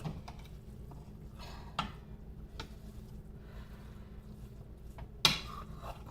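Prawn rice stirred in a cooking pot, quiet scraping under scattered clinks and knocks of a spoon against the metal pot, with a sharper knock near the end.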